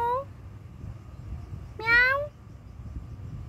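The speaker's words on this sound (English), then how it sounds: "My meow meow, my cat" A cat in Gedera, Israel gives two short meows, one at the very start and a louder rising one a couple of seconds later, over a quiet background.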